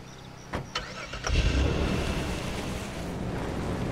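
A car engine in Far Cry 2 starts with a few clicks and a cough, then settles into a loud, steady rumbling idle that fills the rest of the moment.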